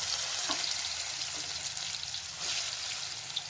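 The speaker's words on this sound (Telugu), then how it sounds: "ఇప్పుడు ఒక కడాయిలోన ఆయిల్ పెట్టుకొని" Boiled vegetable pieces, including broad beans, dropped into hot oil in a kadai with the stove off, giving a continuous bright frying hiss close up and steady in level, no talk.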